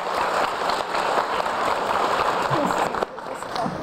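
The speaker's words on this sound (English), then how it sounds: "how about a round of applause for these teams?" Audience at a high school quiz competition applauding the teams, a sustained wash of clapping with voices mixed in, dropping off slightly near the end.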